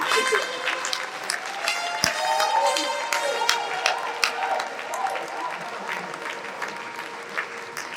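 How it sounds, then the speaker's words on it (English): Sustained applause from a large audience at a women and youth agribusiness summit launch, dense steady clapping that swells and holds for several seconds with a few louder claps and a lively crowd. "make the clap louder"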